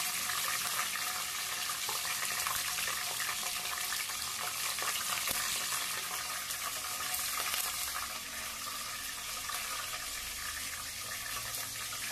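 Green chillies fry in a pan for a Marathi matki usal dish, giving a loud, continuous close sizzle with faint stirring clatter throughout.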